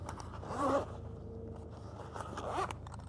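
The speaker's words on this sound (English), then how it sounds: "zip that pocket up, tuck the webbing inside" A zipper pocket on a fabric boat lift storage cover is zipped, with two short rasping zip strokes separated by a quiet pause, close and clear with no talking.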